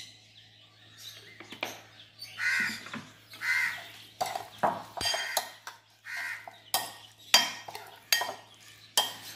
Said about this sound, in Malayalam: അപ്പോൾ ഉപ്പും കൂടി ഇട്ടിട്ട് ഒന്ന് നന്നായി മിക്സ് ചെയ്യാറുള്ളു